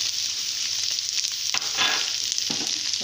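Carrots, bell peppers and peas fry in a pan with a steady close sizzle, while a few scraping stirs of a spoon come through; no voice is heard.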